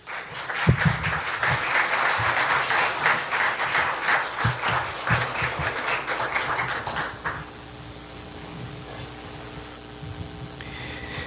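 Strong applause from an audience welcoming an engineer onto the stage at a book presentation, a dense sustained clatter of many hands for about seven seconds before fading into quieter room tone.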